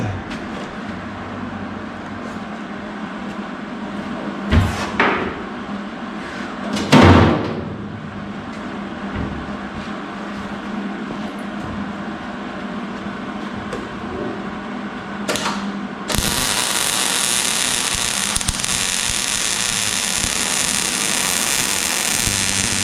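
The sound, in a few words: arc welder welding metal, sputtering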